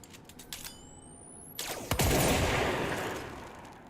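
Gunfire in the video game Control: a broadband burst of shots erupts after a rising whine, loud and sustained through the second half, with scattered clicks earlier.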